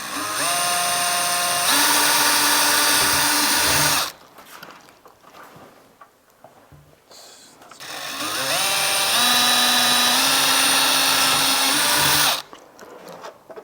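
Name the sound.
power drill drilling into carbon fiber trunk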